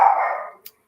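A single sharp dog bark, loud and close, fading quickly with a tiny click afterward.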